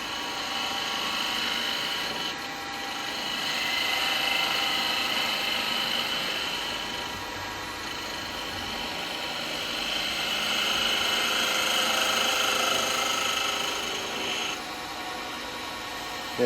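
A log spins on a wood lathe while a carbide tool levels the top of a bird feeder, giving a long, steady scraping rasp over a motor whine that swells and eases as the cut varies, with no talking.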